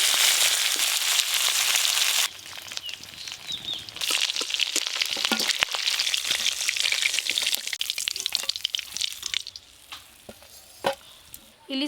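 Hilsa fish heads fry in hot oil, giving a loud, steady sizzle with sharp crackles and pops, louder at first and then bursting in uneven spits that thin out toward the end.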